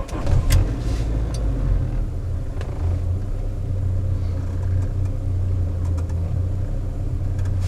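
A 1981 VW Rabbit pickup with a 5-speed manual runs after a warm start, its engine giving a steady low idle rumble. The sound is close and fairly even, with a few faint clicks over it.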